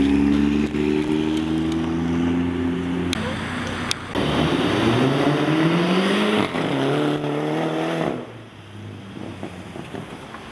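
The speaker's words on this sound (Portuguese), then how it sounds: "BMW M2." A BMW M2 passes at a car gathering at Praça da Espanha in Curitiba, its engine loud and close, revving and rising in pitch before fading as it moves away.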